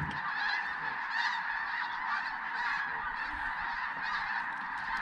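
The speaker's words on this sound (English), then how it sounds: "We were greeted with a nice little snowstorm and a couple million snow geese." A dense chorus of snow geese honking continuously, countless overlapping calls forming a steady clamor from a large flock.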